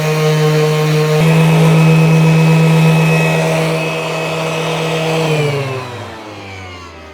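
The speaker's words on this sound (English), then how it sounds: "that's 60 grit. I think I'm gonna take a break with the sanding" A power sander working wood with 60 grit sandpaper on a rocker cradle build, a loud steady motor whine that holds for several seconds and then winds down as the tool spins to a stop.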